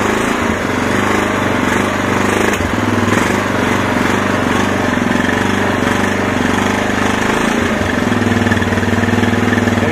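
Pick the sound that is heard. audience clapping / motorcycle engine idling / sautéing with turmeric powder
motorcycle engine idling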